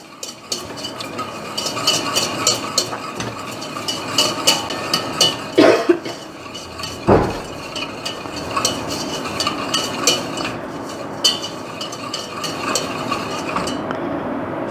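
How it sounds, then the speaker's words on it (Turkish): Eggs and sugar are whisked together in a bowl for a melon custard, a continuous rhythmic scraping and clinking of the whisk against the bowl, loud and close, with a couple of sharper knocks. "şekerle yumurtayı biraz yediriyoruz arkadaş. Pütür pütür hale gelene kadar."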